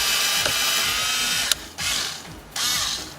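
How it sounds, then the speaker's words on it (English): A power screwdriver backs screws out of the radio and CD player trim on a BMW E90, with several close, loud whirring bursts separated by short pauses. "we use the power screwdriver here"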